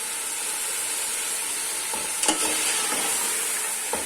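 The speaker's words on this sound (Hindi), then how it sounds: "देखिए इस तरह से गोश्त को भून लेंगे।" Meat browning in a pot as it is stirred, a steady quiet sizzle and hiss broken by a few brief scrapes and clinks of the spoon.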